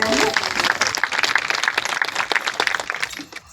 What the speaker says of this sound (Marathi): टाळ्या वाजवा एकदा सगळ्यांनी.